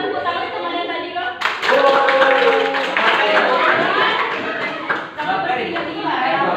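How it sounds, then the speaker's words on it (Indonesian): A class of schoolchildren clapping for their classmates, a dense burst of hand claps that starts abruptly and carries on steadily, with voices chattering and calling out over it. "kita tepuk tangan teman yang tadi kok"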